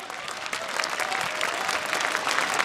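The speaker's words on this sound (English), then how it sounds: "can you give you a round of applause for Batman" A crowd at an esports grand finals playoff match applauds the most valuable player, a dense, steady wash of clapping that fills the space, with faint voices mixed in underneath.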